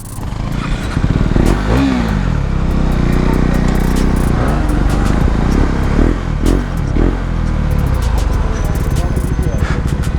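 Motorcycle engines rumble and rev close by at a bike meet-up where a KTM Duke 390 is parked, with rising and falling throttle blips over clattering and people talking nearby.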